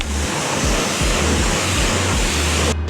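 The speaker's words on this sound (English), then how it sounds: "I'm gonna rinse down the wheel" A water hose sprays down an aluminum car wheel during a car wash, a loud, close, continuous rushing hiss with a low rumble that cuts off abruptly at the end.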